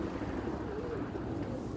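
Pigeons coo on a seaside promenade, low soft calls murmuring steadily beneath heavy wind noise and ambient outdoor hiss, with no voices standing out.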